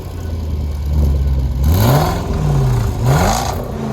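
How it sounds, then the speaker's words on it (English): A Range Rover Sport SVR's 5-liter supercharged V8 idles, then revs twice in rising and falling surges through its quad exhaust, loud and close, with a deep exhaust rumble and no voices. "the quad exhaust hints at that beastly sound this thing produces."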